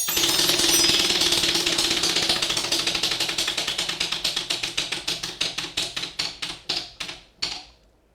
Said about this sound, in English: Go ahead and spin the wheel for us.